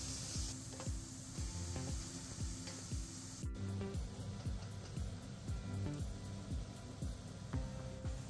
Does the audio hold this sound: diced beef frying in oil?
yes